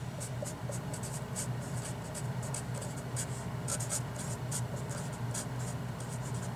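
Pen or pencil writing out an interval solution by hand, a run of quick scratchy strokes in short bursts with brief pauses, close and clear over a low steady background hum.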